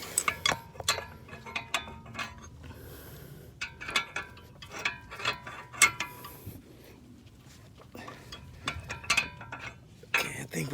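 Lug nuts being torqued with a wrench on a 2012–2015 Honda Civic during a wheel stud replacement, giving close, crisp metallic ratcheting clicks in repeated short bursts with brief pauses between them.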